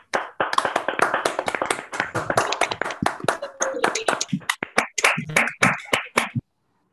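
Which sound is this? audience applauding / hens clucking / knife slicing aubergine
audience applauding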